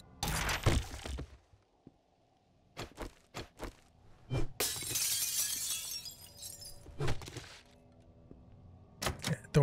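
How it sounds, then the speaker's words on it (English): In 7 Days to Die, a gas fireplace's glass panel shatters with a long bright spray of breaking glass, set among a series of sharp hits and thuds before and after it, fairly loud and close. "I have to break the glass in my gas fireplace to get those meds."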